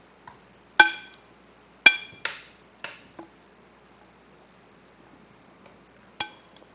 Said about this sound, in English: just spoon these squash in here